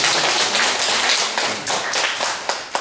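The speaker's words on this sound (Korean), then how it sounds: "박수 한번 칠까요?" A church congregation breaks into brief, lively clapping during a Sunday service, a close burst of hand claps lasting under three seconds.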